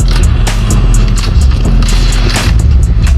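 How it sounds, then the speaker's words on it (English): A grenade explosion in a video game fills the scene as a loud, continuous roar of booming blasts and rumble with sharp repeated bursts over the top, with no speech. "Grenade!"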